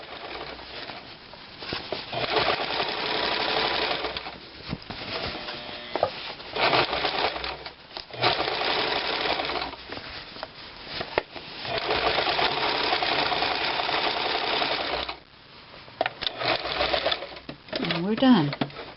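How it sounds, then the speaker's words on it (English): A sewing machine stitches a small striped fabric cushion in steady mechanical runs, pausing briefly between bursts while the needle is set and the fabric turned, with a voice talking over much of it. "Needle down, pressure foot up, pivot, straighten our fabric,"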